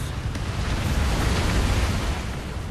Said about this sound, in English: The explosion is kind of weird though.